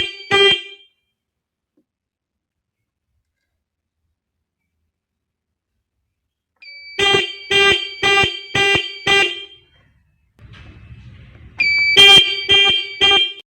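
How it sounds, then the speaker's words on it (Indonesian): Car horn from a parking security alarm triggered by a cut wire, honking in two runs of rapid repeated beeps, five then four, separated by silence, with a low rumble just before the second burst. "Jika kabel ini putus, klekson akan berbunyi. Klekson akan terus berbunyi sampai kabel disambung kembali atau"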